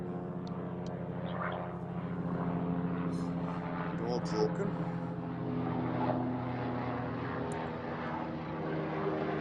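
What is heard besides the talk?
helicopter flying overhead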